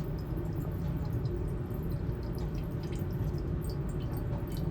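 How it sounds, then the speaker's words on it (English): Water layer draining from a separatory funnel into a glass beaker in a lab, a steady soft trickle with faint scattered drips, close and continuous without speech. "we let the water layer out into the same beaker"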